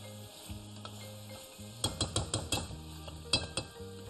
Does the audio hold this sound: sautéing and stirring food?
yes